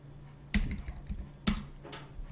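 A few sharp keystrokes on a computer keyboard, close and clear, two louder presses about a second apart with softer taps between.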